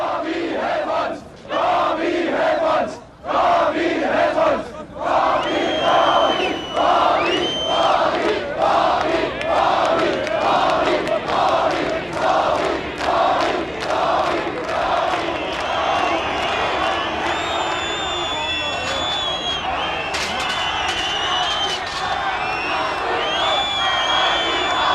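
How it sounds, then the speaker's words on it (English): A hostile crowd outside a Warsaw Pact leaders' meeting in East Germany shouts in rhythmic, chant-like bursts, loud and massed, with cheers and whoops rising over the din toward the end. "Meanwhile, a hostile crowd was gathering outside."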